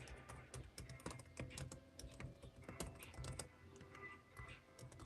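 Rapid, uneven typing on a computer keyboard, dense clatter of keystrokes with brief pauses, close and fairly quiet.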